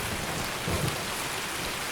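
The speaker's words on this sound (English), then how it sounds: "Here we are, another rainy day in Tarkov." Rain falls in the Escape from Tarkov video game on the Woods map, a dense, continuous hiss that stays loud and even, with a low rumble swelling briefly underneath.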